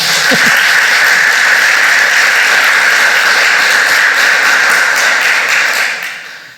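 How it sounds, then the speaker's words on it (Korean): A church congregation applauds during a missionary's sermon, a loud, dense and steady wash of clapping that holds for several seconds and then begins to fade at the end. "제가 받을 박수 아닙니다. 여러분들이 받을 박수입니다."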